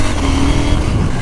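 A KTM 790 Duke twin-cylinder motorcycle with its stock exhaust revs in a loud, close, gritty engine roar that holds steady through the brief burst.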